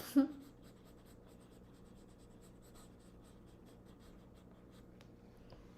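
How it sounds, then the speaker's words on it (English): Pencil lightly and slowly shading across paper during a scenery sketch, a faint, soft, continuous scratchy rasp with a brief louder stroke at the start, close by and with no talk. "if you don't apply pressure on your pencil, you just move your pencil slowly, you will feel it is really relaxing"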